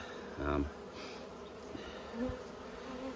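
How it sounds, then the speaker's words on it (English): Agitated worker honey bees buzz around an open brood box during spring hive management, a faint continuous hum with a few louder passes close by and a brief voice in the background. "really all I've got here is a lot of very unhappy worker bees"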